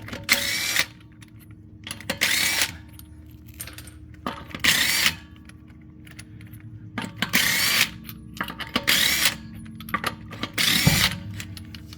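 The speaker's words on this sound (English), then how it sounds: "for time's sake, I'm gonna use my driver here and get these out of the way" Impact driver zipping off the lug nuts of a 2016 Chevy Traverse front wheel during a brake job, five or six loud ratcheting bursts with short pauses between them, no talking.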